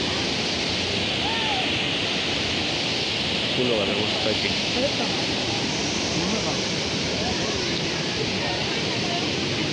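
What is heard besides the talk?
waterfall near a glass bridge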